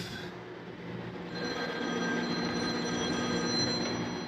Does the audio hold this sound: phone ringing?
yes